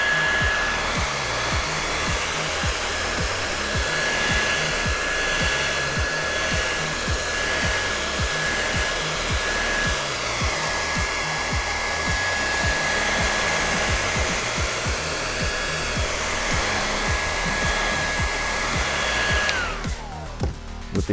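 A heat gun blows steadily and loudly while warming a vinyl wrap skin on a PS5 console. It holds an even roar for about twenty seconds, then cuts off abruptly near the end.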